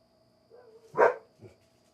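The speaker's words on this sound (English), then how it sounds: "Damn dogs." A single dog bark at a distance, one short sharp burst with a fainter follow-up, in an otherwise quiet room with a faint steady hum.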